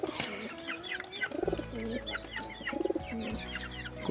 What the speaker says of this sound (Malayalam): ഇതാണ് നമ്മുടെ പ്രാവുകൾ